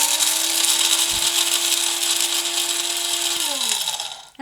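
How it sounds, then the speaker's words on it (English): A small electric grinder whirs steadily as it grinds seeds into a fine flour, a loud, even motor whine that holds for several seconds and then winds down as it is switched off. "you can leave this little grinder out and just every morning make your little..."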